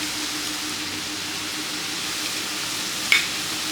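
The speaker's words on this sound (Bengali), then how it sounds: "এখন সুন্দর করে নাড়াতে হবে এটা তরকারিটা প্রায় কষানো হয়ে গেছে" A crab curry with ground spices is stirred in a pan, giving a continuous soft sizzle and scraping hiss at close range, steady throughout with a brief clink near the end.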